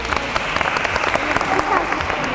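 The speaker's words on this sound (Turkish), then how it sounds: "Beyaz takımı kocaman alkışlıyoruz." Applause for the winning white team at a Bursa school sports event, a steady patter of clapping from a group lasting throughout, fairly loud and close.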